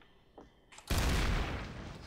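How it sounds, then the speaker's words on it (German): Gunfire from shooting barrels in Trouble in Terrorist Town: a couple of faint pops, then a loud, dense burst of shots and crashing noise that continues to the end. "Ich habe nur Fässer weggeschossen."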